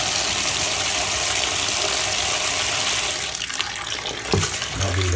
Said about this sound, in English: I just run a little bit more water in here just to give the pins a real quick